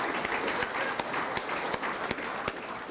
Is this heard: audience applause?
yes